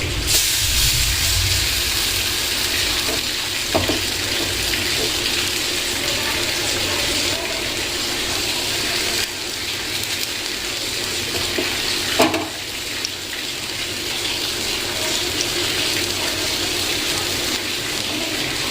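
Bread pakora coated in batter sizzles in hot oil in a pan, a steady, loud, close frying hiss that continues throughout with no talking.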